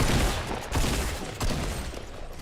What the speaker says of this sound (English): Another one shooting me from Trump.